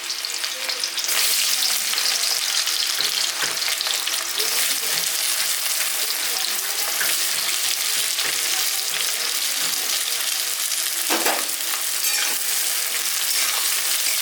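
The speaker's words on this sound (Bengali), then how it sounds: "দিয়ে দিচ্ছি সর্ষের তেল দিয়ে দিচ্ছি কটা কুচনো পেঁয়াজ পেঁয়াজটা একটু লাল করে ভেজে নেবো" Chopped onions fry in mustard oil in a wok with a loud, continuous close-up sizzle, broken by the scrape and clatter of stirring throughout.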